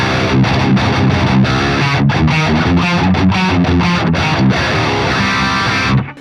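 Heavily distorted electric guitar through the orange channel of the Bogren Trivium Ampknob plugin at gain 5, playing a dense, tight, percussive riff that stays loud and continuous for about six seconds before cutting off.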